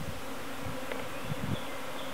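Honey bees buzz steadily inside an open nucleus hive with brood frames, a close, even hum with a few brief louder passes from individual bees.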